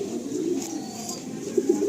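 A blue checker female racing pigeon coos softly at close range in a loft, a low steady murmuring call lasting a couple of seconds, with no talking.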